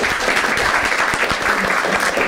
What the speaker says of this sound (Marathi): एकदा टाळ्या होत्या दोघांसाठी